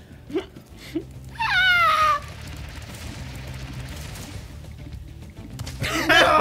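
A cat meows in a Spyro video game with a clear rising-and-falling call, followed by another meow near the end, over steady game background noise with brief voice sounds.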